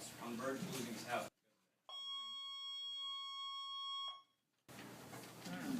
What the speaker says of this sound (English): I think it's just testing the alarm system